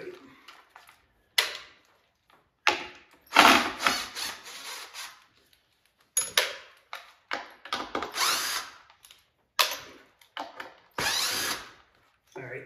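Power drill whirring in short repeated bursts while backing screws out of an old Wizard of Wor arcade cabinet, separated by pauses and clatter, fairly close.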